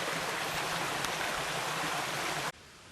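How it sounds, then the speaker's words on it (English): Brook water rushing through a beaver dam in Douglas Woods, Massachusetts, a steady broadband gush that cuts off abruptly near the end. "the water from the brook has been diverted in several places so that it doesn't all flow through the dam"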